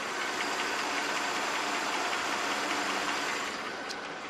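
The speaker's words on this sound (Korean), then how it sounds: "엔진 소음 먼저 들려드리면은," A Mercedes E-Class engine idles up close in the open engine bay, giving a steady, smooth, hissing hum with no break, easing slightly quieter near the end.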